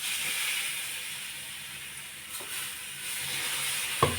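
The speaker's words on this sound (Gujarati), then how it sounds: "પુડલા આપણે તળવાના ચાલુ કરી દીધા છે।" Gram flour pancakes (pudla) fry on a griddle with a steady, close sizzle and hiss, broken near the end by a couple of sharp utensil clinks.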